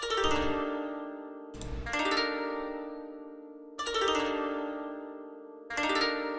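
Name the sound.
Ethno World koto gliss phrase pattern in FL Studio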